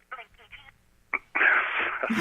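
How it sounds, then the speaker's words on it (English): A smartphone's Siri voice assistant activates: a short electronic tone, then a louder, steady chime-like tone that lasts about a second. "My phone went off somehow, thinking I was talking to him."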